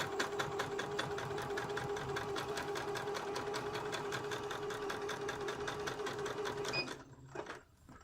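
A sewing machine stitches a curtain hem, avoiding the elastic, in one steady rapid run of needle strokes at close range. It stops abruptly near the end, leaving near silence.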